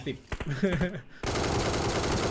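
ACE 32 rifle fire in PUBG Mobile, heard as a sustained, rapid automatic burst that starts abruptly and continues loud to the end, following a brief stretch of talking.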